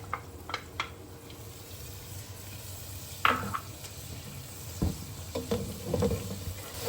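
Ginger garlic paste fries in oil with browned onions for a chicken karahi, a low steady sizzle broken by a few sharp clatters and stirring scrapes, close by and without talk.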